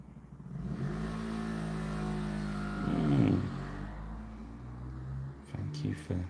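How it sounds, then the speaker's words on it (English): A motorbike engine idles and revs just outside a house, a low steady drone that swells briefly into a throaty rev, while a voice talks softly nearby. "Thank you for stopping your motorbike outside our house."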